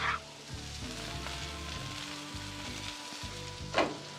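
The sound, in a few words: peppers and onions sautéing in oil on a hot griddle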